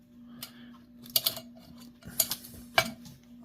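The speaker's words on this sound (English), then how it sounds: "And you just clip it on and lock it in." Metal clip snapped onto a small alcohol stove and locked in place, a few close, sharp metallic clicks and scrapes against a faint steady hum.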